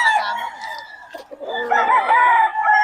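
A full stag gamefowl rooster, a lemon sweater, crows loudly and close at a cock farm in Bocaue, one long drawn-out call with faint clucks around it.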